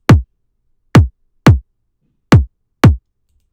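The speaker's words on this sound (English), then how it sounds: "So now we've got the kick sounding big" Five isolated kick drum hits from a dark drum and bass production, tightened with a transient shaper, each a punchy, deep thump with a snappy attack and short tail, played alone in an uneven rhythm.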